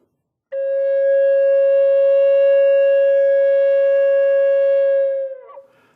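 Native American flute holding one steady, pure tone for about five seconds, loud and close, starting abruptly and fading out at the end with no other sounds.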